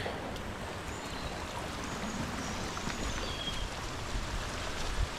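Continuous close rushing and trickling of a small brook tumbling down a Peak District hillside, steady and fairly loud with no voices.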